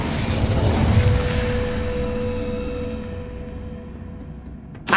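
An Incendio fire spell is cast in Hogwarts Legacy: a loud, dense whoosh with a burst near the start that thins into a steady sustained tone and fades, then a sharp hit right at the end.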